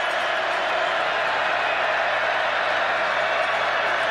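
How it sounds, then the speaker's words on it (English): A football stadium crowd at a 2010 WVU vs UNLV college game roars steadily, a broad continuous wash of cheering and applause with no breaks, holding at the same loudness throughout. "Crowd getting into it."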